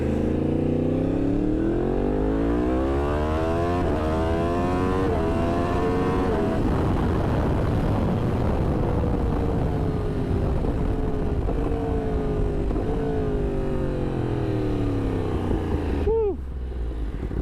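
A Yamaha R1 sport motorcycle fitted with a Yoshimura exhaust, revving hard and pulling through rising and falling engine sweeps for a long stretch, loud and close with wind noise.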